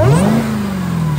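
Supercharged Jeep Trackhawk engine fitted with a new intake revs up hard and close, pitch climbing then holding a loud steady roar with a high whine, with no voices.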